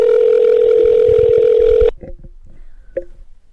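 A loud, steady telephone ring tone sounds continuously for almost two seconds, then cuts off abruptly, leaving faint clicks and handling noises.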